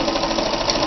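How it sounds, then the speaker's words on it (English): A Kenmore 158.13033 sewing machine runs a regular seam with a steady, loud, rapid mechanical whir and fast needle clatter throughout, with no voices. "we're back to regular sewing."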